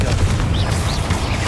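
A Confringo blasting spell going off in Hogwarts Legacy, inside a catacomb tomb, a dense low rumbling boom that keeps rolling steadily throughout, with faint whooshing swirls above it and no talking.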